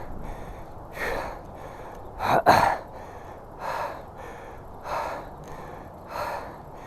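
Heavy breathing from a cyclist catching their breath on a bike path, close to the microphone, with a regular rhythm of deep breaths about once a second and one sharper gasping intake partway through.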